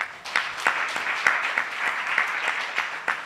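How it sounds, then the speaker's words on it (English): Audience applause for a panel of speakers at a technical operations breakout session, a steady mid-sized crowd clapping with a few sharper individual claps standing out. "put your hearts together and applaud the panelists"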